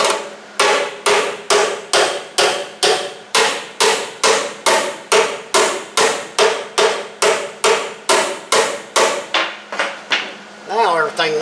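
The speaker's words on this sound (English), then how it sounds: "got a big hammer" A big hammer pounds the metal frame and floor of a 1970 Cougar, about two dozen loud, close blows falling in a steady rhythm, each ringing briefly before the next.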